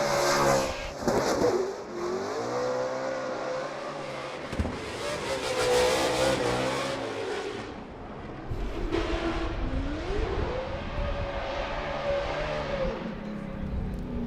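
Loud, close engine roar of a Ford Mustang RTR Spec 5 FD drift car at Formula Drift Long Beach, revving and rising in pitch, with rapid throttle changes and tire noise throughout.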